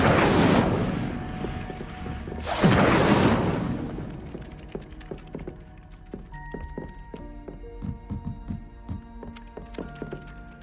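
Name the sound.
Incendio fire spell cast in a video game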